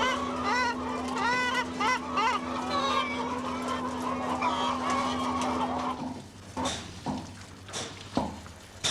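Birds honk and cackle loudly in a noisy flock, like geese or fowl, over a steady hum, with scattered calls continuing after it fades.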